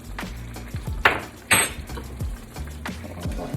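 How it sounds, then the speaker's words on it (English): Garlic and spices being stirred in a pan for shakshuka: a utensil clinks and scrapes against the pan in a few distinct knocks, two louder clatters standing out over a low steady background, with no talking. "I'm going to give that a little stir."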